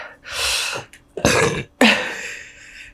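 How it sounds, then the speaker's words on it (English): A person makes a few short throaty bursts close to the mic, three separate rough sounds in a row with breathy tails. "I keep burping."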